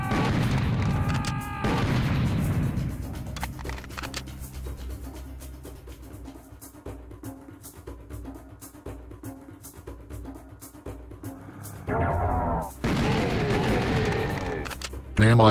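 Explosions boom and crackle in bursts in the 1996 retro game Karnak, with rapid gunfire-like pops, while a voice talks at the start and end.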